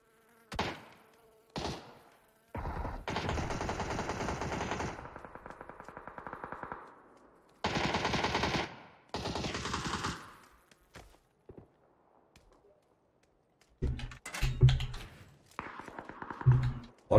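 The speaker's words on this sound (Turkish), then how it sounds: "Oğlum bunlar niye hepsi bana sıkıyor," Gunfire in the video game PUBG comes as repeated bursts of rapid automatic fire, some long and dense, others short, separated by quiet gaps, with sharper single shots near the end.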